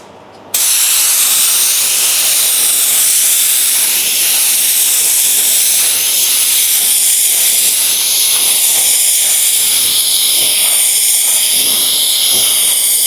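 A paint spray gun lays a second coat onto a car panel with a loud, continuous airy hiss that holds steady after a brief quieter start, with no talking.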